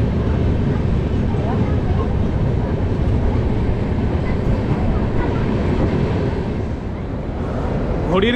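A train pulls into Agra Cantonment railway station at night, a loud, steady rumble of rolling railway carriages filling the whole stretch.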